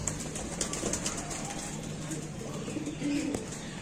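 Soft pigeon coos sound close by over a steady background hum, with a slightly louder coo near the end.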